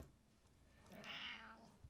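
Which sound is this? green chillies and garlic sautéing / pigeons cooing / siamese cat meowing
siamese cat meowing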